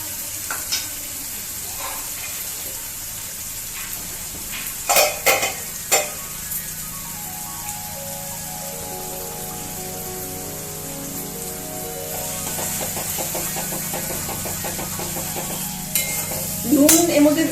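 Frying with mustard paste in a pan: a loud, continuous sizzle like rain on a surface, punctuated by bursts of clattering stirring, with a faint voice in the background.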